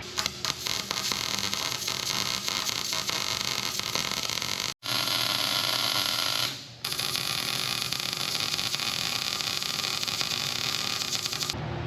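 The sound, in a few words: welding a pin on an offroad wrecker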